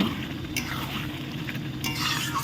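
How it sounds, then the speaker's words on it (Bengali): Chicken masala with ground roasted cumin and mashed tomatoes sizzles in a pan as it is stirred, with a couple of sharp spatula scrapes cutting through a steady close frying hiss and no talking. "সুন্দর করে নাড়াচাড়া করে নেওয়া হচ্ছে"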